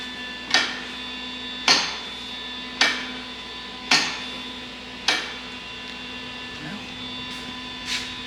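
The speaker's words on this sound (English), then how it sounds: "Rod still goes back and forth" A rod slides back and forth in a Silverado axle setup being narrowed for a C10: six evenly spaced sharp metallic knocks about a second apart, close and clear over a steady shop hum.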